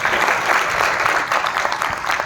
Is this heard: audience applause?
yes